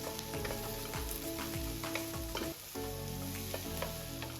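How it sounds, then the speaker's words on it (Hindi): Capsicum and chicken stir-frying in a pan for chowmein, a loud continuous sizzle with repeated scraping strokes of a spatula close by, no voices. "4 से लेके 5 मिनट्स तक इसको भी अच्छी तरह से भूनना है।"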